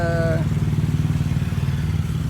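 Motorcycle engine rumbling loudly and close as bikes pass, a steady low throbbing drone with a brief higher tone at the start.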